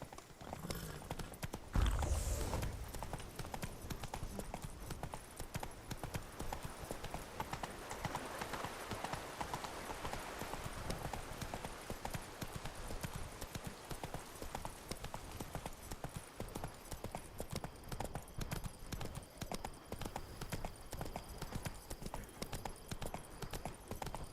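Horse hooves clip-clopping steadily in The Witcher 3: Blood and Wine, a continuous trotting rhythm under a soft game ambience, moderate level with no speech over it.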